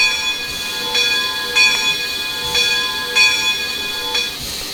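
A locomotive bell on an MNRR 0-6-0 switcher in the Trainz simulator rings steadily, with about eight evenly spaced clangs over a soft rumble.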